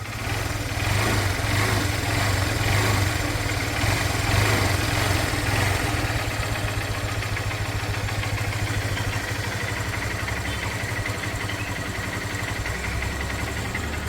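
A 2017 Honda Unicorn motorcycle engine idling close by, a steady low throb that runs evenly throughout with no other sounds.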